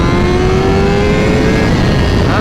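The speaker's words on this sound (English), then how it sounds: "This is scary fast. I can't even get all the throttle in it." Honda CBR1000RR-R SP sportbike at full throttle, a loud, steady engine howl with a rising tone held throughout, close and constant with heavy wind roar, no speech.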